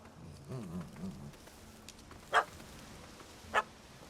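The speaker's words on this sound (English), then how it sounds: "That gammy puss ran up a tree to escape that puppy." Dog in the video game The Witcher 3 giving a short run of whimpering, yipping barks, followed by two sharp isolated sounds, faint and set against quiet game background.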